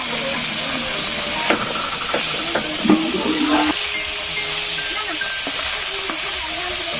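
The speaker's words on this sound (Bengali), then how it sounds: "তেলটা গরম হয়ে গেছে, মাছটি অল্প অল্প করে দিয়ে দিচ্ছি। এদিকে মাছটি ভালো করে ভেজে নেব।" Fish drop into hot mustard oil in a wok and fry with a steady hissing sizzle, broken by several sharp spatters and utensil clicks, close and fairly loud.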